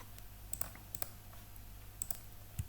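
Computer mouse and keyboard clicks while drawing in LibreCAD, a handful of sharp, quiet, close clicks spaced irregularly in a near-silent room.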